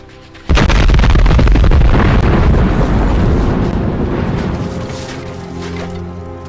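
A bomb goes off with a sudden, massive blast, followed by a long roaring rumble and debris that slowly fades.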